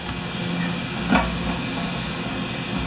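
Water sprayed over the lid of a Makita G2400R generator gives a steady, close hiss with a brief louder splash partway through.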